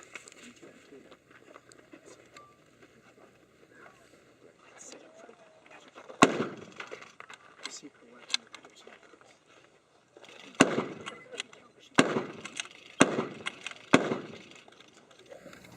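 An M1903 rifle fires blank rounds at a WWII reenactment during a multigun match: five sharp, loud outdoor cracks, the first alone and then four in quicker succession, with quiet background chatter between them.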